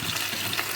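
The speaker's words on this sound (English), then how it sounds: "Let it fry for a while in the oil" Plantain pieces frying in a pot of hot oil give a steady, close crackling sizzle with broad hiss, continuous and even through a short moment, with no voices.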